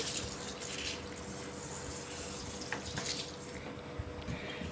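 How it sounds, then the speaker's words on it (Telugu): Water splashes and swirls steadily as green gram lentils are rinsed by hand in a bowl under running water, with no voices. "నీళ్లు పోసుకొని శుభ్రంగా రెండు మూడు సార్లు ఇక్కడ నేను చూపెట్టిన విధంగా శుభ్రంగా కడుక్కోవాలి"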